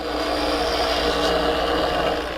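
A woodturning tool is sharpened on a bench grinder, giving a steady, close, continuous abrasive grinding hiss with a faint high whine throughout and no talking.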